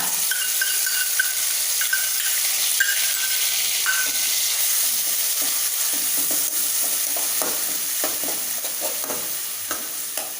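Onion paste frying in a pan for egg bhurji gives a steady close sizzle and hiss, with scattered light stirring scrapes throughout and no voice over it.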